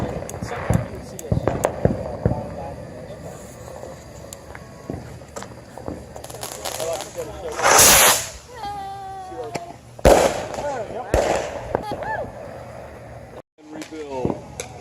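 A rocket launcher in Halo Reach blows up in the tube with a loud burst, followed by crackling, sputtering pops and further explosive hits, amid game noise and people talking.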